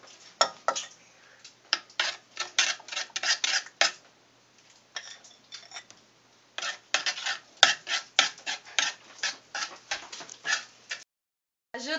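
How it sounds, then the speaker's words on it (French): A utensil stirs egg yolks into a chocolate mixture in a bowl, giving a series of quick, close scraping and clinking strokes in uneven bursts with short pauses. "Mélangez les jaunes dans le mélange du chocolat."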